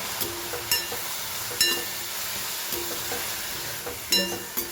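Spinach being stirred in a hot pan, with a steady sizzle and several sharp scraping strokes of the spoon recurring about once a second, close and moderately loud, with no talk.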